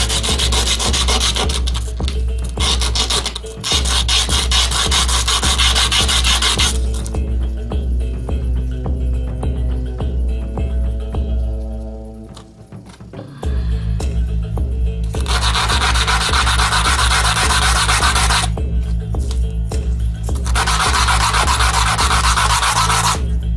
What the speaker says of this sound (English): This 80 grit cuts it pretty quick, so you got to check it every once in a while.